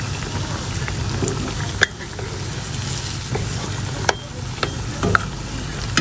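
Pitha frying in hot oil in a home kitchen, a constant close sizzle with occasional sharp clicks of a spoon against the pan.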